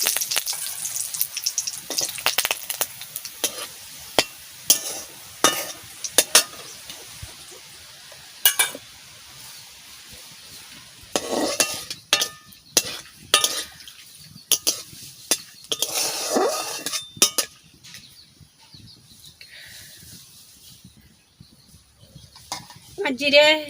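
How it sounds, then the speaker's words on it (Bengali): Cumin seeds, split green chillies and split bay leaves crackling in hot oil in a pan, with scattered sharp pops and sizzle bursts, stirring and utensil clinks, moderately close. "তেল গরম হয়ে গেছে, আমি জিরা দিয়ে দিচ্ছি, দুটো লঙ্কা মাঝখান দিয়ে চিড়ে দিয়ে দিচ্ছি, দুটো তেজপাতা মাঝখান দিয়ে চিড়ে দিয়ে দিচ্ছি"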